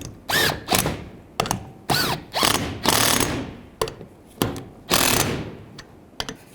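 A ratchet tightens wiper transmission bolts on a Chevrolet Equinox, giving close, loud bursts of rapid clicking, around ten short spurts with brief pauses between them, and no talking.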